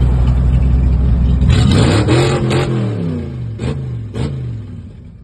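A Chrysler 318 cubic inch V8 in a truck revs hard through an exhaust running through two resonators, with loud, close, rising and falling engine tones and a couple of distinct blips toward the end.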